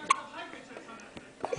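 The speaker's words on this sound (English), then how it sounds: "Little hiccups?" Small hiccups from a baby, a couple of brief soft bursts amid quiet baby-directed chatter, close to the microphone.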